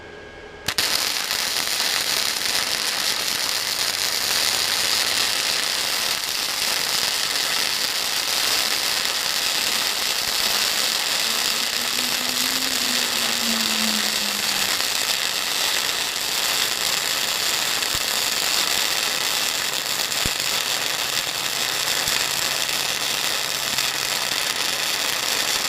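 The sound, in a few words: flux-core welding with Titanium Easy-Flux 125 welder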